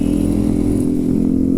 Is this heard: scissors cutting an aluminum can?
no